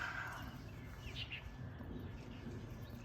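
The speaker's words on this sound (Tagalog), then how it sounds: "Maingay pa ang mga ibon." Birds in a cold, foggy morning vegetable garden with tomato plants, a few faint chirps rising briefly over a steady low outdoor rumble.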